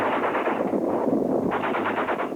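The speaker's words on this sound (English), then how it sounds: "gunfire shattering the silence at sea" Rapid bursts of automatic gunfire at sea, loud and close, rattling continuously with a brief lull before another sustained volley.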